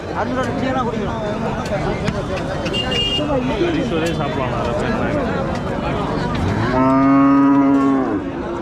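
Cattle low and moo repeatedly at a busy village cattle market in Tamil Nadu, with a long loud moo near the end, over constant crowd chatter and nearby talking.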